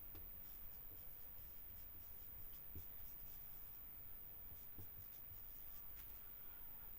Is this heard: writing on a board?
yes